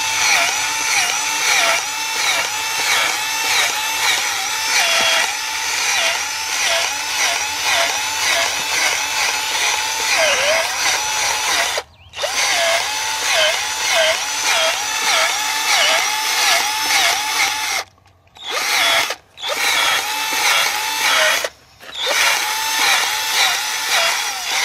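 A power drill bores a deep hole in the ground for planting stakes, its motor whining loud and close with a wavering, pulsing pitch as it digs, cutting out briefly a few times before restarting.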